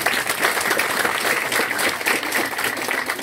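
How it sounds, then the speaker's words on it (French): A class of high school students applauding loudly at a school quiz match, with continuous, dense clapping filling the room from start to finish. "que je vous demande d'applaudir très fort, les amis"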